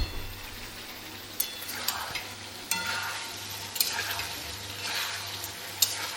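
Soybean chunks and potatoes hit hot spiced oil, with yogurt and a little sugar in the masala for a soybean-potato kosha. A steady close sizzle runs throughout, broken by sharp clacks of a spoon stirring against the pan.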